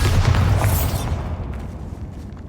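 A Bombarda blasting spell detonates in Hogwarts Legacy with a loud, booming explosion that rumbles for about a second, then trails off into a fading low rumble and debris.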